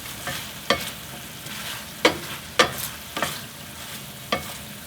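Garlic scapes stir-fried in sauce in a pan, with a soft continuous sizzle broken by about six sharp scraping clacks of the utensil against the pan at irregular intervals.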